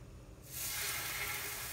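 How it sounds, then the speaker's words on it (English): Salmon goes skin side down into a hot skillet, and a soft sizzle bursts up after a quiet start, then holds as a steady hiss. "I'm gonna put the salmon in the skillet,"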